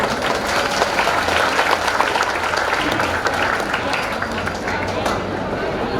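An audience at a Muhammadiyah gathering claps steadily in a dense, sustained round of applause, with crowd voices blended in.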